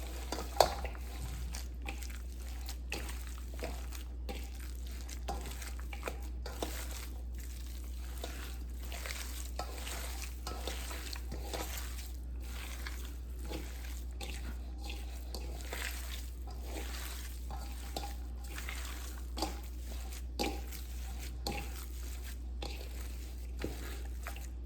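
Ground meat for Salisbury steak being worked together by hand with its ingredients, a moist ketchup mix, giving soft, steady squelching and light clicking squishes at close range throughout, with no talking.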